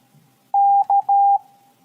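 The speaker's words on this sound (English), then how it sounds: "Now with Morse code. Kangaroo." Three steady electronic tones, one long, one short and one long, form a Morse code signal for the word kangaroo. They sound clear and close against a quiet background.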